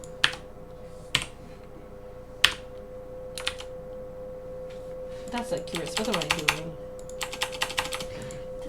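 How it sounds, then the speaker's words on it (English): Loud computer keyboard typing, sparse sharp clicks at first and then a rapid run of keystrokes, close, with a person talking over part of it. "my keyboard is. It's kind of loud."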